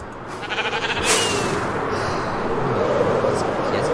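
Video-game sheep bleating in a blocky Minecraft-style world, a short bleat near the start over a dense, loud wash of continuous background noise.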